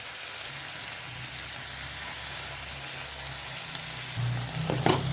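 Mushroom, broccoli and capsicum fry in a pan for pasta, a steady close sizzle with a low hum underneath, rising briefly with a clatter near the end; no speech.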